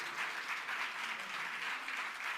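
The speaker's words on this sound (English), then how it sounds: "Another round of applause, please," An audience at a conference opening ceremony applauds in a faint, steady patter of many hands clapping, heard from a distance without pause.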